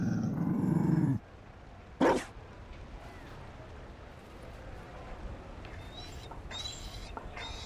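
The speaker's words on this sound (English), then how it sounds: "You found a dog?" A Mabari war dog in the video game Dragon Age Inquisition gives a low rumbling growl up close, followed by a sharper yelp-like bark and faint game ambience.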